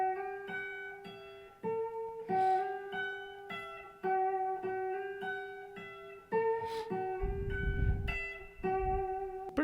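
An electric guitar plays the riff from a song: clean, plucked notes ring out in short repeating phrases, close and clear, with no voices.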